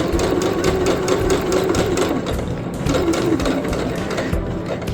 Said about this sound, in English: Remember, don't pivot, just sew right to the very end.